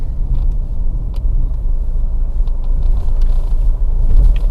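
Chevrolet Captiva 2.0 diesel SUV from 2011 with firm suspension, heard from inside while driving over a rough road: a steady, loud low-frequency rumble of engine and road noise with faint knocks and rattles, no voices.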